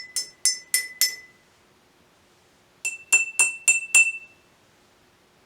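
Glasses holding different amounts of water are tapped in two runs of four clear, ringing strikes. Each run has a steady rhythm, and the second run rings at a different pitch from the first.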